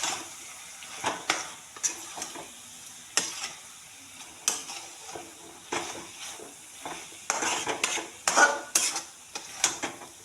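Kasuri methi gets stirred into paneer do pyaza in a pan, with repeated scraping clinks of a spoon against metal over a faint, low sizzle, close and fairly quiet.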